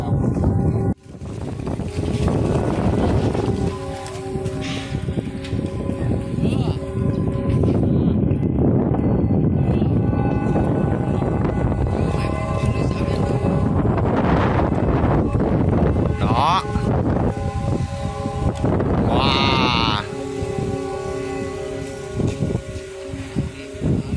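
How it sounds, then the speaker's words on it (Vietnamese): Strong wind buffets the microphone outdoors while a kite with a bamboo flute flies, loud rushing gusts that rise and fall throughout, with tonal whistling and someone speaking at times. "Gió hiện tại rất là lớn luôn nha các bạn."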